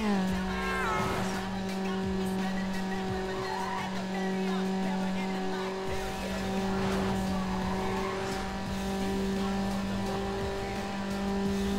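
A car in Need for Speed Underground is held at high revs in gear, a sustained buzzing engine drone with shifting pitch, tire squeals and a faint voice in the background.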